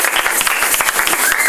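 Congregation at a Kinshasa church gathering breaking into dense, lively applause, many hands clapping close and loud in a continuous burst.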